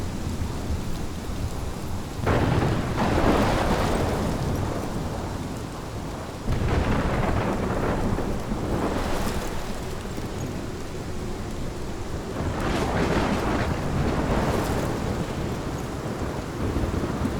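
A thunderstorm in the video game Life is Strange brings heavy, steady rain with rolling rumbles of thunder that swell and fade several times, loud and continuous throughout with no talking.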